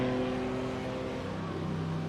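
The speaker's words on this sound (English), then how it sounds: "you can hear that Boxer Porsche engine going down the pit straight" A Porsche boxer engine in a GT3 race car in a racing game, droning steadily down the pit straight at the Hungaroring, a sustained buzzing engine note with no talk over it.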